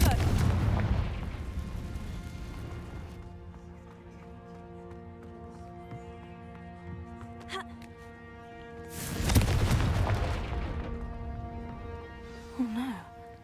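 Two heavy Confringo spell blasts boom in the Hogwarts Legacy video game, one at the start and another about nine seconds later, each a loud close burst with a rumbling decay, separated by a quieter stretch of ambient game sound.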